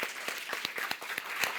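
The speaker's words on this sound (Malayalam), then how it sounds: "Clap please." Small audience at a fans' meet clapping together, sharp separate claps landing in a loose, quick rhythm over a soft wash of crowd sound, with no talk.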